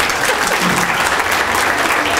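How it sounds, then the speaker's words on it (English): A room of lawyers at a book launch for a judge's memoir claps for themselves, a thick, continuous roar of hands, loud and full from start to finish. "Let's give us as lawyers a round of applause for ourselves."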